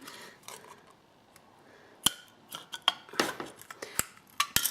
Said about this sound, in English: I cut along each side, and then I cut